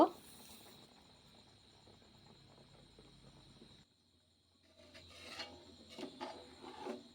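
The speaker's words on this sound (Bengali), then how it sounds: "এটা অনবরত এইভাবে নাড়তে থাকতে হবে পায়েসটা" Steady scraping and rubbing of a spoon stirring kaon rice payesh in a pot after sugar is added. It runs continuously for several seconds, then drops to a quieter stretch with a few louder scrapes near the end.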